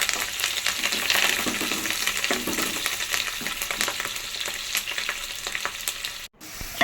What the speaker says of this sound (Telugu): వేసుకున్నాక అలాగే కరివేపాకు కొద్దిగా వేసుకుందాం. వేసుకొని ఇది కొద్దిగా బాగా వేపుకుందామండి మంచిగా.